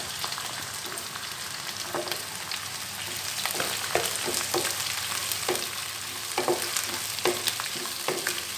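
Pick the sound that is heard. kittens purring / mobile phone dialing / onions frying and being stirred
onions frying and being stirred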